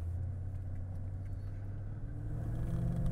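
A 2012 Mercedes-Benz CL65 AMG pulls away in drive, its engine giving a steady low rumble that builds slightly toward the end, heard from inside the car without talk.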